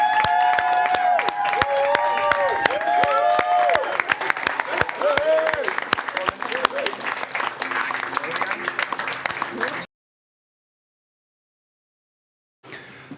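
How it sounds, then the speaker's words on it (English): Wedding guests applaud the newlyweds Mr. and Mrs. Davidson after standing for them at a reception, clapping loud and sustained over music, with voices and cheers mixed in, then cutting off abruptly to silence before a brief return. "And let's have a little applause for Mr."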